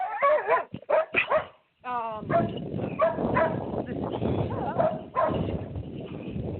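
A dog barks repeatedly at close range in a home, sharp yips and whimpering barks mixed with a person talking over a broadcast microphone.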